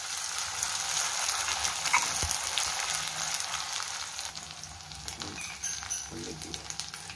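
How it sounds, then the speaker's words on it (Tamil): Ginger garlic paste frying in oil for kothu chapathi: a steady, close hiss of sizzling with scattered crackles and pops throughout, plus a brief stirring knock. "இஞ்சி பூண்டு பேஸ்ட்டு நல்லா வதக்கணும்."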